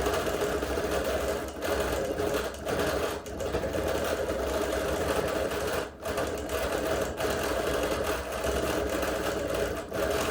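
A sewing machine machine-quilts a show quilt with leaves and curved crosshatching, running continuously at a steady fast stitching pace, close and fairly loud, with only brief dips in speed.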